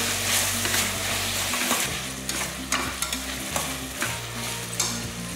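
Close frying sizzle in a pan with ground black pepper, steady hiss punctuated by repeated scraping stir strokes in an irregular rhythm, no voices.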